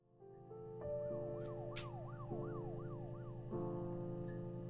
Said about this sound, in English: Did y'all just hear those sirens?